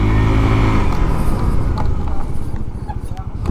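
An FKM Juke 150 motorcycle engine revs and rumbles loudly up close, throttle rising and falling with a steady low roar throughout.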